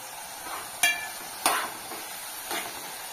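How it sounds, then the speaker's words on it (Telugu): Small homegrown bitter gourds frying in a covered pan, a soft steady sizzle with a few sharp clanks of a lid or spoon, no talk. "చూడండి మంచిగా ఫ్రై అవుతున్నాయి."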